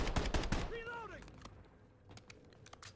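Rapid enemy gunfire in a multiplayer first-person shooter, a cluster of loud shots in the first half second followed by a few scattered distant pops, with game voice chatter and descending tonal sounds in between.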